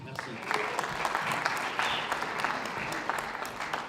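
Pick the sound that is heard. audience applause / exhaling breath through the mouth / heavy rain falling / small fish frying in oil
audience applause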